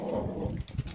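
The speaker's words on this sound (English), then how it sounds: "gotta go stop the dog from killing the cats" A dog growls in a short, low, rumbling burst close by, with a brief whimpering edge near the end, heard alone.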